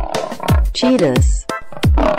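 A cartoon cheetah lets out a few loud, close roars and growls in short bursts, with a tonal, voice-like quality over a music-like background.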